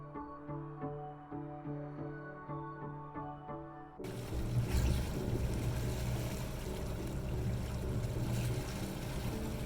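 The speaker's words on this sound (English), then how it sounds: "The wind died down, so we're just motoring now." A sailboat runs under engine power through swell on the Georgia Strait, British Columbia: a steady droning motor hum, then a sudden switch to continuous loud rushing wind and water noise that persists to the end.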